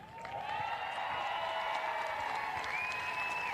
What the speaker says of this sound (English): can you please make some noise for our tournament champions